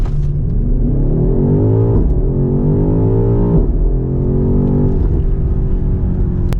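A 2023 BMW XM launches hard under launch control, its engine rising in a loud, close, steady climb through the revs, with a brief shift dip before pulling up again.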